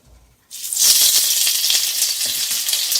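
Tuna batter wrapped in perilla leaves hits a hot pan and breaks into a loud, steady sizzle after a short quiet start, with faint scraping taps underneath.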